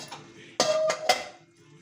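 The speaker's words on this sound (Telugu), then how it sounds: "ఇప్పుడు మూత అయితే తీసి చూద్దాం" A metal lid lifts off a pot of aloo kurma with a few sharp clinks and a brief ring, near and fairly quiet, with no talking.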